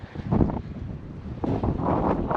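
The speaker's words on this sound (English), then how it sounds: "It's a little too windy for this nature walk." Strong wind buffeting outdoors on a nature walk in Saint Pierre near a cemetery, loud rumbling gusts battering the microphone in two surges, with no talk.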